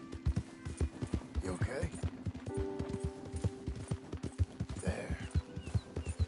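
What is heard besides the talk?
horse hooves clip-clopping in a PS4 video game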